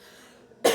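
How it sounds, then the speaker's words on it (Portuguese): A woman coughs once, short and close, after a stretch of near silence. "Desculpa aí que eu tô tossindo um pouco"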